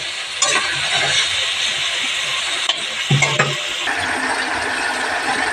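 Vegetables and spices sautéed in a pan for a light summer meal, a loud close sizzle with scraping stirs and a few knocks of the spoon against the pan, steady throughout with no talk.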